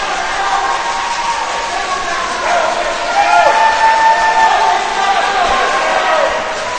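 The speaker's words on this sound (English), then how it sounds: "Crowd cheering him on to get to the finish." Spectators at a boys' high school swim meet cheer and shout steadily for a swimmer in the last laps of a 500 race, a continuous roar of crowd noise that swells slightly midway.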